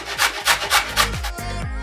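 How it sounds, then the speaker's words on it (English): Raw peeled taro root is rubbed against the small holes of a hand grater in quick, even rasping strokes, about four or five per second, close and clear, with no voices. "grate it on the smaller pieces of your grater"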